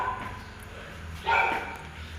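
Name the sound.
dog barking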